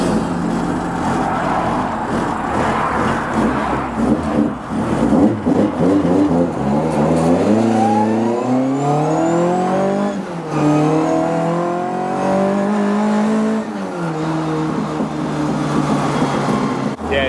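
A stripped-out Cortina estate with a Cosworth V6 accelerating hard through the gears, its loud exhaust and whining gearbox climbing in pitch, dropping at each shift and rising again, close and dominant throughout.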